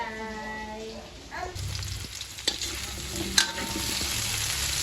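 Potatoes fry with a steady sizzle and occasional stirring clatter, close by, continuous through the clip.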